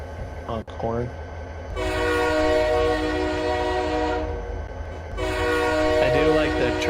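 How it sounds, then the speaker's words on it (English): A locomotive in Farming Simulator 25 blares a sustained horn in two long blasts over a low rumbling rail roll, with brief game sounds at the start and a voice speaking softly underneath. "I do like the train noise."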